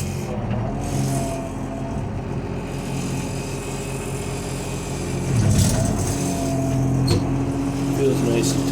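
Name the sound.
Cat D4 model bulldozer running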